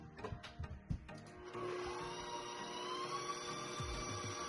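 An electric mixer whirs steadily in a bowl, creaming butter and sugar for sugar cookies, after a few clattering knocks at the start.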